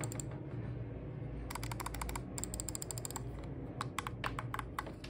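Button clicks from an Ant Esports GM320 gaming mouse, a run of crisp close-up clicks in irregular bursts, some rapid, over a quiet background.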